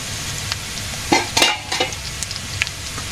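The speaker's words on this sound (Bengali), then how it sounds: "পেঁয়াজ ভাজি হয়েছে এখন" Onions frying in a pan, a steady close sizzle with a few brief bursts of stirring and spatula scrapes.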